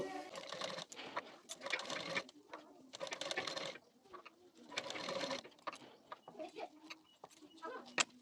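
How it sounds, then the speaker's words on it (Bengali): A sewing machine stitches pleats into blouse fabric in short bursts of fast mechanical whirring, stopping and starting as the cloth is folded, close but fairly quiet. "এখান থেকে কুচি দিয়ে নেব ঠিক এইভাবে প্লেট দিতে দিতে সেলাই দিয়ে নেব"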